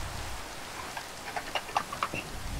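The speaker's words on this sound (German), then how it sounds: "Ich glaube, das ist einfach Regen" Steady rain falling in a Minecraft game world, a soft constant hiss with scattered light droplet ticks and taps, quiet and continuous with no talking.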